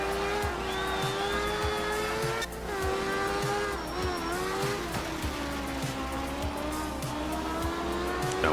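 A car drifts with its tires squealing in long wavering tones over a revving engine, loud and continuous with a brief dip midway, and no voices.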